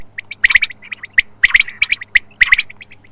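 A loud electronic bird caller for hunting plays quail and koel calls as bursts of sharp, repeated synthetic chirps, close up and grouped in clusters over a faint steady hum.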